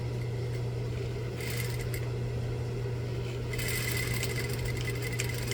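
A sewing machine back stitches a reversible vest, running as a steady mechanical hum with short bursts of sharper stitching clatter, close and without talking.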